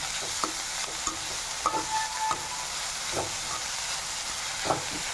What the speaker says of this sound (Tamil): இந்த தக்காளி போட்டு லைட்டாக வதக்கிக்கலாம்